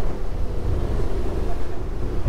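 Wind buffeting a J Craft Torpedo speedboat at speed off the French Riviera, a loud, steady low roar mixed with engine and water rumble throughout.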